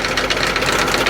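A Ford tractor engine idles steadily up close, its rapid, even mechanical chug running unbroken through the short moment with no voices over it.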